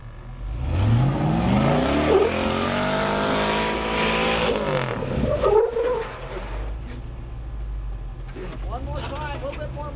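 An old wrecker truck's engine roars and revs hard while the truck climbs a rocky off-road trail, its pitch rising, falling and surging again as the tires spin. People talk and shout over the engine noise.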